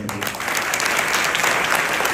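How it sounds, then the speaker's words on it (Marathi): An audience claps steadily and warmly at a Marathi Day lecture, a dense burst of applause filling the room without pause. "जोरदार टाळ्या वाजवा."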